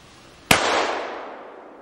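A single sharp gunshot during an outdoor duck hunt cracks loud and close, then leaves a long echoing tail that fades over about a second.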